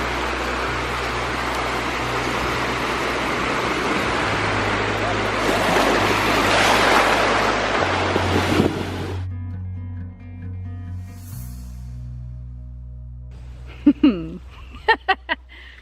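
Waves wash over a small, rocky beach at North Beach in Prince Edward County, a broad, rushing surf roar that swells for several seconds before cutting away to a low steady hum and a few sharp clicks.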